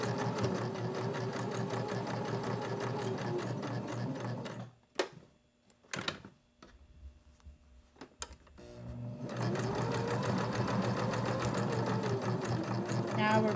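Sewing machine stitching straight across several layers of elastic, running steadily at first, pausing with a few short bursts and clicks mid-way, then resuming a continuous close whir; no talking.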